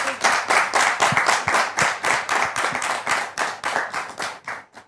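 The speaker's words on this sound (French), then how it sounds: "avec des applaudissements" A church audience claps in unison to welcome a guest, a loud, rhythmic series of sharp group claps at a quick steady beat, close and clear, ending abruptly.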